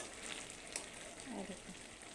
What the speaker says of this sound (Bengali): মশলাটা আমরা ভালো করে মটরের সাথে কষিয়ে নেব।